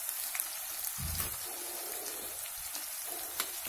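Chilli, coriander and turmeric frying in hot oil for a dal tadka on a wood-fired chulha, giving a soft, steady sizzle with faint crackles, fairly quiet and without speech.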